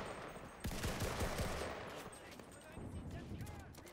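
Rapid bursts of Johnson LMG light machine gun fire in a first-person shooter game, loud and close with sustained automatic volleys and short pauses between strings of shots.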